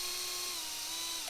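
A small drill bit spins at high speed cutting into a 3D-printed RC car part, a thin steady whine with a faint falling pitch, close and continuous, no voices.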